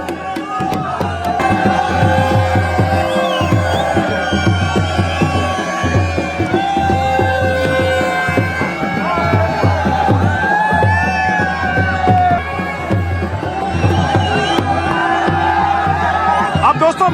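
A large, dense crowd murmurs and calls out at the Maliyal mela, a village fair near a goddess temple in the Pindar valley, with loud continuous chatter, scattered shouts and whoops, and voices all around.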